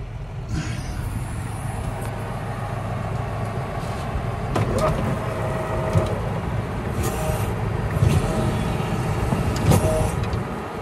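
A farm tractor idles steadily while spreading manure onto a field of alfalfa, its low engine drone constant and close, with a few faint clanks and short mechanical noises over it.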